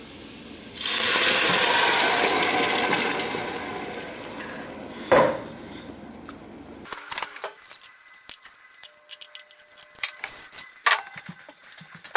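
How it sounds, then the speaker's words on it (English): Marinara sauce ingredients poured into a cooking pot: a sustained liquid gush for several seconds, then a sharp clank of metal, followed by scattered scrapes and clinks of utensils against the pot. "And now we're going to add the rest of the ingredients."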